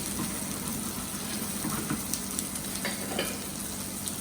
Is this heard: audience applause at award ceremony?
no